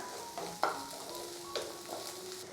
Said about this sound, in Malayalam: വെളുത്തുള്ളി അല്ലിയും ചേർത്ത് കൊടുത്തതിന് ശേഷം വീണ്ടും ഒന്ന് വഴറ്റിയെടുക്കാം